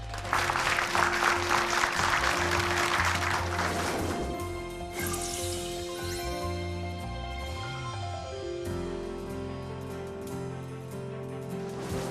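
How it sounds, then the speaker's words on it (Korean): An audience at a Korean lecture concert about fine dust claps to welcome a professor onstage. Broad, lively applause fills the first few seconds, then fades as steady background music takes over. "여러분 박수로 맞아주세요."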